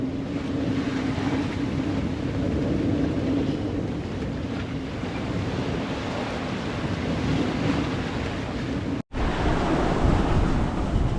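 Ocean waves and wind surge steadily around a sailboat on an uncomfortable open-sea passage from Tahiti to Hawaii at sunset, a continuous loud rush of water and wind noise with a brief dropout near the end.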